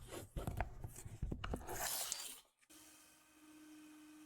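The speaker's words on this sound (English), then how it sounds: "I would sand the surface from the coarse grit to finer grit." Scratched acrylic watch glass on a 1969 Seiko Lord-Matic being hand-sanded with coarse to finer grit: a few seconds of quick, gritty rubbing strokes close up, then a sudden stop into near silence with faint hum.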